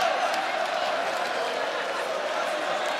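A sold-out Coca-Cola Arena crowd at a PFL mixed martial arts fight sends up a steady, roaring wall of noise, dense and unbroken throughout, with no single voice standing out.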